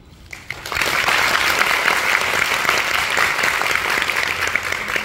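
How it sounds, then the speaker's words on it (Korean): Audience applause at the final-performance curtain call and stage greeting of the musical Four Minutes, a dense, steady roar of many hands clapping that swells in after a quiet start and holds strong throughout. "박수를 보내고 싶습니다"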